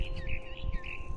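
A mama bird in the game What Remains of Edith Finch chirps in a quick run of bright tweets over low rumbling wind.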